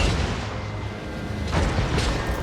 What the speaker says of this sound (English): I'm fine with the mortars just doing a little bit of damage